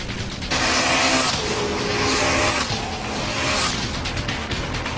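A Honda Civic EK9 Type R with a B16B engine racing, a loud high-revving engine roar that surges and sweeps past in waves, with no talk.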